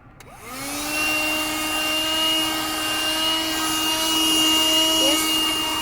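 Black & Decker handheld car vacuum cleaner running with its nozzle removed, a steady close motor whine with a rising pitch after start-up, continuous and loud throughout with no talking.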